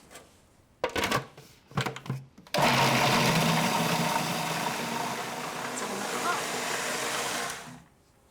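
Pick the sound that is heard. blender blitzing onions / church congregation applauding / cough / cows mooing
blender blitzing onions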